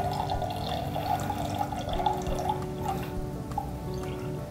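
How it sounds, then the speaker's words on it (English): Water pours from a container into a glass for a density experiment indoors, a soft, fairly faint, continuous trickle with a rising tone over a few seconds. "pour some water into the glass"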